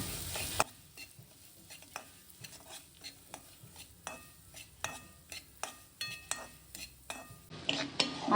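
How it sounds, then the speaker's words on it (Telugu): Bombay rava (semolina) roasting in ghee in a pan, with a spoon scraping and stirring in a steady rhythm of about one stroke per half second over a faint, dry sizzle. "నెయ్యి వేసుకుని బొంబాయి రవ్వ వేసుకుని వేయించుకోవాలి."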